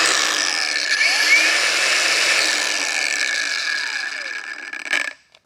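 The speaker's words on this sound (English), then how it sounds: "We'll throw this cutoff wheel on there and we'll see how it goes." An ArcCaptain angle grinder fitted with a cutoff wheel whines steadily at high speed for about five seconds, loud and close, then cuts off abruptly as it spins down.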